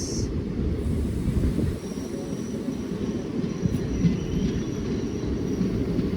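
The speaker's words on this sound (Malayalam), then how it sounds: "166-49 മംഗളൂരു സെൻട്രൽ കന്യാകുമാരി പരശുറാം എക്സ്പ്രസ്." The Mangaluru Central–Kanyakumari Parasuram Express at Parassala station makes a continuous heavy rumble of rolling wagons, with a faint thin wheel squeal drifting above it. The sound stays steady and fairly close the whole time.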